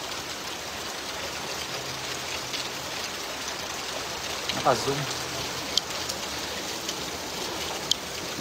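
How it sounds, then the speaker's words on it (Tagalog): Heavy rain falls steadily during a Canadian summer, a constant broadband wash with a few sharper drop hits, while a voice speaks briefly partway through. "Ayan, lakas ang ulan."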